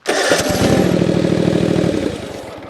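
A Toro TimeCutter mower engine being spun over produces a loud, rapid, rhythmic cranking chug for about two seconds before it winds down and stops.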